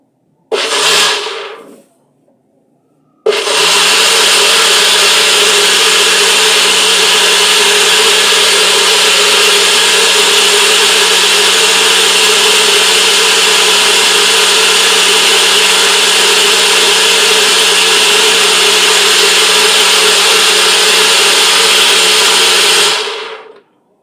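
A NutriBullet 600 series blender blends celery into juice: a brief burst of motor whir, a pause, then a loud, steady high-pitched grinding roar held for about twenty seconds before cutting off.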